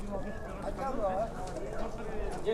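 Horse hooves clip-clop at a livestock horse market in Sokuluk, a steady low rhythm of steps running under continuous nearby talk and crowd noise.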